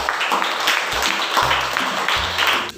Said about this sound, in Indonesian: Oke, tepuk tangan dulu untuk semua kelompok.